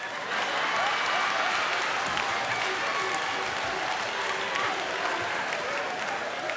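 Comedy club audience claps steadily throughout a stand-up set, a dense, even wash of applause with scattered voices mixed in.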